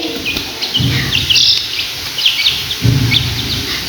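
Small chicken chicks at a village home give repeated short, high chirps and peeps, fairly close, over a low rumbling background with no talk.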